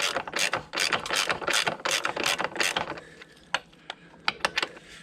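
Ratchet wrench loosening a bolt on the rear shock of a 2009 Kawasaki ZX10R, a fast run of close, loud clicks for about three seconds, then a few sparse separate clicks.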